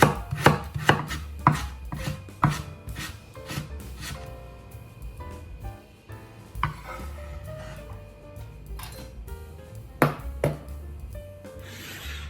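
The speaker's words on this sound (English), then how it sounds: "30 grams of carrot. Shred finely." Rapid knife strokes finely shred carrot against a wooden board, brisk and close, with irregular bursts of cutting and short pauses between runs.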